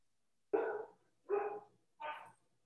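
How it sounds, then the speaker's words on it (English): A dog barks three times in quick succession in a home during an online gathering, each bark sharp and fairly close, separated by brief silences. "Oh, doggy."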